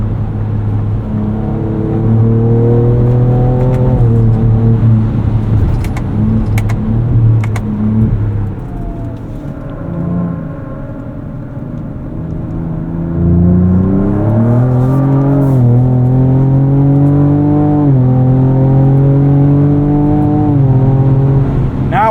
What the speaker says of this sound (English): Really starting to like the way this V6 sounds too. It makes a good noise.